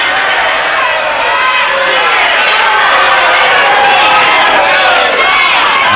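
A loud, dense British wrestling crowd roars and cheers for Steve Viedor, sustained and unbroken throughout with no gaps, a thick wash of voices filling the hall.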